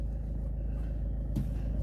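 A car passes on a street with a steady low engine rumble and road noise, fairly close, ending in a brief louder swell, with no talk.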